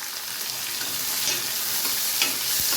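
One chopped green chili sautéing in a pan for a turkey berry curry gives a steady, close frying sizzle and hiss, with a light stir or scrape near the end and no voices.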